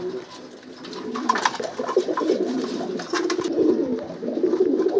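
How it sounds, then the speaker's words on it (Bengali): Silver pigeons in a loft coo in soft, rolling, repeated calls, several birds overlapping close by with a faint flutter and rustle in the background. "এগুলো সিলভার কবুতর জাবরা সিলভার কবুতর এগুলো বেজি কবুতর"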